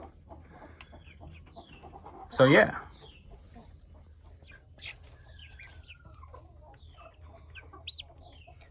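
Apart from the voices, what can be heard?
naked neck chickens clucking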